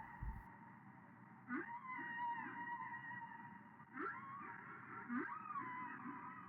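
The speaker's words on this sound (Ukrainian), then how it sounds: "Та це ж найбільша тварина на нашій планеті. І звати його кит." A whale sings in long, wavering, moaning calls with rising and falling pitch, repeated several times over a continuous underwater drone, no talk.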